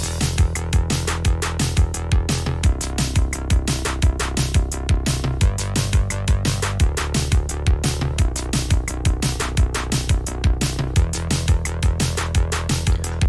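Electronic groove with steady drum hits, an arpeggiated synth line and a bass line playing together, built as a layered track for a piece; constant rhythmic pulse throughout, loud and continuous with no talking.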